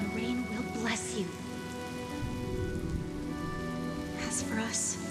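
Steady rain falls throughout a Honkai: Star Rail video game cutscene, a soft continuous patter under faint musical tones and brief whooshing accents, heard at low level.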